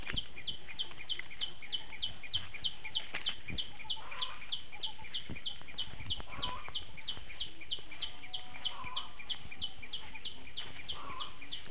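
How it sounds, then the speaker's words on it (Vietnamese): Birds chirp over a chili pepper field in the countryside, with rapid, evenly spaced high tweets repeating throughout and faint rustling and bumps nearby. "Ở trên đốm ớt có tiếng chim kêu nữa."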